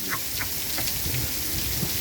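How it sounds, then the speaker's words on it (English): Steady heavy rain pours across the whole stretch in an outdoor thunderstorm, a dense close hiss with faint low thunder rumbling underneath. "I fucking love the old thunderstorm"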